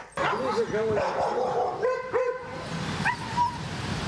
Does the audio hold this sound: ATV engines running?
no